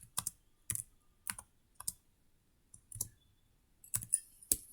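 Python code is typed on a computer keyboard, with sparse, quiet clicks coming in small bursts separated by pauses, close up and with nobody talking.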